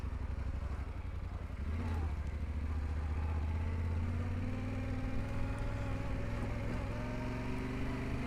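A Yamaha Tenere 700 motorcycle rides on a road, its engine droning steadily and building slightly in pitch over several seconds, mixed with wind and road rumble and no talking.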